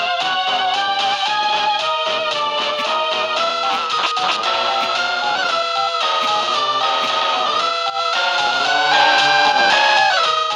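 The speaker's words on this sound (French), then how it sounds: "je vais vous faire écouter la musique de la Sylphée SARL." Silph Co. background music from Pokémon FireRed, a dense, continuous melodic game tune with steady chiptune-style layers, loud and unbroken throughout with no talking.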